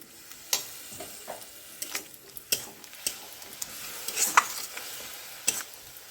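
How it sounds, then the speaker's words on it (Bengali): Spice paste made from ground spices, moistened with water and stir-fried in a pan for an okra and shrimp curry, with a low sizzle and sharp, irregular clacks of a spatula against the pan, close and alone. "এবার কিছুটা জল দিয়ে মশলাটাকে ভালো করে কষিয়ে নিচ্ছি।"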